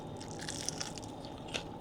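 Someone bites into crispy fried chicken wings from a plate lunch spot, giving a few soft, close crunches in a quiet, brief moment.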